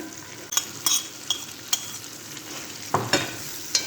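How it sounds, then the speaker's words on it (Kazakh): Meat frying in a pan for Kazakh hand-pulled lagman, a soft steady sizzle broken by sharp scrapes and clinks of a utensil stirring against the pan, fairly close. "Етіміз қуырылып болайын деп қалды"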